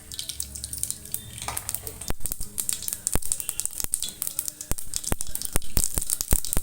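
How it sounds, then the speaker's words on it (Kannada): Mustard seeds hitting hot oil for a spinach dal: steady close sizzle with a run of sharp, irregular pops and crackles as the seeds burst, louder and busier toward the end. "ನೋಡಿ ಎಣ್ಣೆ ಬಿಸಿ ಆಗ್ತಿದೆ ಇವಾಗ ಒಂದು ಸ್ವಲ್ಪ ಸಾಸಿವೆ ಸೇರಿಸ್ತೀನಿ ನಾನು"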